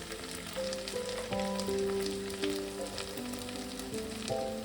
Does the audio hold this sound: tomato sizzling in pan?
yes